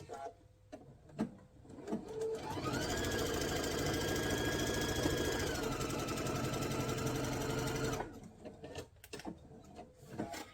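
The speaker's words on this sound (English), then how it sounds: "So just flip that around and go ahead and sew that side." A sewing machine stitches a quilted table runner in one continuous run of rapid, rhythmic whirring for about five seconds, close and steady, with small handling clicks and rustles before and after.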